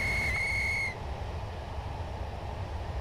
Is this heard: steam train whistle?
yes